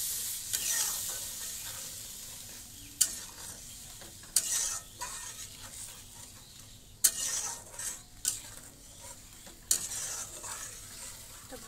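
Chicken bora curry masala fries in a pan with a soft, continuous sizzle, while a spatula scrapes and stirs in irregular bursts every second or two.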